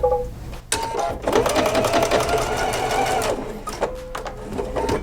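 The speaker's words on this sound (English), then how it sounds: "So I'm going to put these right sides together and begin sewing using that 1/4 inch" A sewing machine stitches quilt strips sewn right sides together along a quarter-inch seam, running in two steady, close bursts separated by a brief pause.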